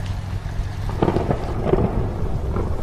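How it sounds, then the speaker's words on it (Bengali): Low rolling thunder rumbles through a steady background of rain, with a couple of louder swells of rumbling in the middle. "বজ্র বিদ্যুৎ সহ তুমুল ঝড় বৃষ্টি শুরু হলো"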